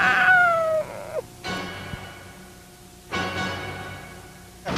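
A cat meows repeatedly in drawn-out, wailing cries, several calls separated by short pauses, fairly close.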